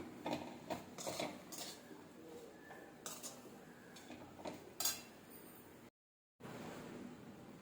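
A spoon stirs potato and spinach paratha stuffing in a pan, making quiet, intermittent scrapes and metallic clinks. There is a brief moment of silence near the end.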